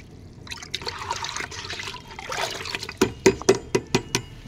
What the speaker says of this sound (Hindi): देखो मैंने इसमें और पानी ऐड कर देती हूँ